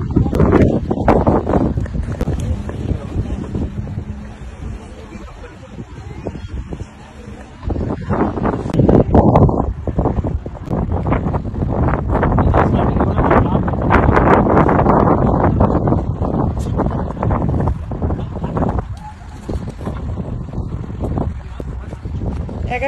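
A sea breeze gusts along a coast lined with palm and date trees. It buffets the microphone in a loud, continuous roaring rush that rises and falls, with voices mixed in.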